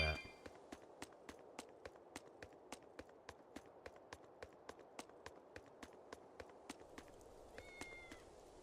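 Several cats meowing in the Tales of Berseria video game, brief high cries near the end over a steady run of regular footstep-like taps and low background hum.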